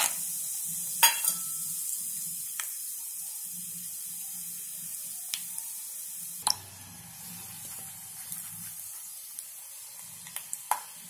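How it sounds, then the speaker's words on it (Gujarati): Peanuts frying in oil for a puffed sorghum and rice chevdo, a steady high sizzle broken by a few sharp clinks and stirring knocks, with no speech. "હવે આપણે સિંગદાણા તળશું."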